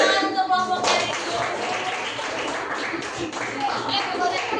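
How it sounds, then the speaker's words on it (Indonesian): Classroom applause for a student group, a burst of many hands clapping that carries on steadily at moderate distance, with voices mixed in and a few louder claps near the start. "silahkan beri tepuk tangan untuk kelompoknya itu"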